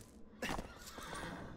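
A horse in the video game Shadow of the Colossus lets out a single loud, close neigh, with light hoof clip-clops trailing after it.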